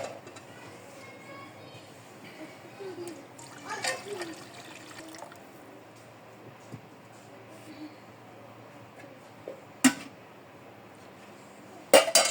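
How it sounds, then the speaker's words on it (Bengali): Rice is washed in water in a pot before cooking, with faint trickling and swishing, soft clinks and a few sharper knocks near the end, all at low level. "চাউল ধুয়ে দিয়ে দিলাম।"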